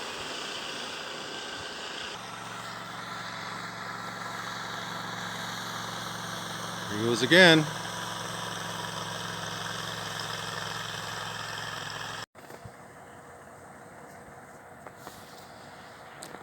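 A 1959 narrow gauge Bombardier snow vehicle runs at full speed on the frozen Saskatchewan River, its engine a steady, loud drone with a brief louder surge midway, dropping abruptly to a lower, quieter hum near the end; a voice speaks briefly.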